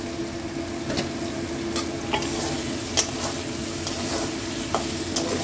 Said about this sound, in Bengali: চিংড়ি মাছটা একটু ভাজা হবে